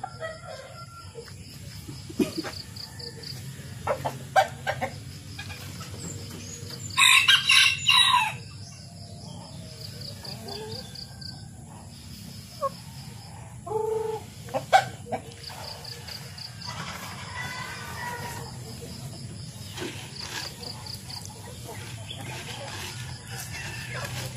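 Small Malaysian Serama chickens cluck and a rooster crows in short bursts, with a busy outdoor backdrop of insects and faint birds around them.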